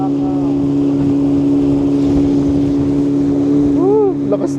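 A motorboat ride in Fiji, with a steady loud engine drone and strong wind buffeting the microphone throughout. Voices talk over the engine near the end.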